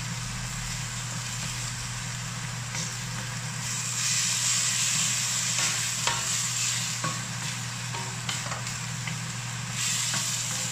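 A fly's head dish stir-fries in a pan with a continuous, fairly loud sizzle and repeated spatula scrapes and taps, over a low steady hum in the background and with no speech.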